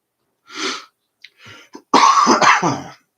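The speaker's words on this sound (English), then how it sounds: "Cough's starting to flare up on me." A person coughs and clears their throat nearby, a short hack followed by a few small catches and then a louder, rough burst of coughing.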